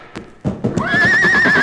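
A horse gives a loud, close whinny that rises and holds while hooves clop on the ground beneath it, in a radio drama about a racehorse.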